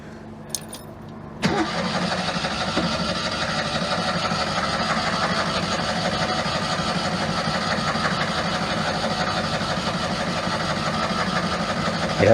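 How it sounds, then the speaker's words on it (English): A Ford AU engine cranks over steadily with the ignition coil disconnected, a continuous loud starter-motor churn that begins abruptly after a brief click and runs on without catching. "I'm just going to disconnect the coil, just spin her over till we get oil pressure."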